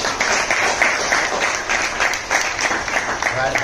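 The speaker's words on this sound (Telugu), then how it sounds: "అందరూ ఒకసారి గట్టిగా చప్పట్లు పట్టుకుంటారు" An audience claps loudly at a World Knowledge Day celebration honouring Ambedkar, a dense sustained burst of applause filling the room throughout, with a voice faintly underneath.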